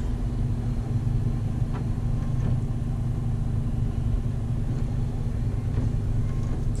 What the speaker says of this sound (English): you can hear the turbo on this thing